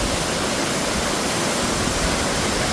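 Little Shickshinny Falls in Pennsylvania pours in a steady, dense broadband rush of falling water, close and loud, with no voices over it.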